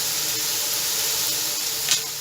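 Small, finely cut chicken pieces fry in a pan for chicken fried rice, giving a steady, close hiss and sizzle that holds evenly throughout with no talk.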